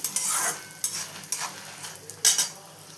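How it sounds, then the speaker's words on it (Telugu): Dried red chillies and asafoetida frying in oil for a lemon chilli powder, a light sizzle broken by several scraping stirs and metallic spoon clinks against the pan, nearby and with no voices. "ఇలా కొంచెం మంచి దోరగా వేయించుకొని పెట్టుకోవాలి"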